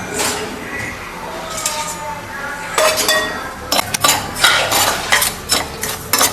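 Semolina (rava) being stirred and roasted in a pan for rava kesari, heard as repeated close metallic scrapes and clinks of a spoon against the pan, coming in irregular bursts that grow busier toward the end.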